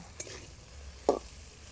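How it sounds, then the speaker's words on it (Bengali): Potatoes with turmeric frying in a pan, heard as a faint background hiss with two brief stirring scrapes, one early and one near the end, in an otherwise quiet kitchen. "এখন আরো কিছুটা সময় আলুটাকে লাল লাল করে ভাজে নিব"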